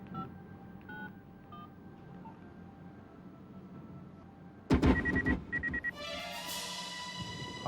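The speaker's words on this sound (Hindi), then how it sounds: "एमटीएनएल से जो नंबर मिला है वो लगा।" A telephone keypad being dialed from inside a building, a quick series of distinct beeping touch tones, followed by louder clattering and a ringing tone, with quiet room hum beforehand.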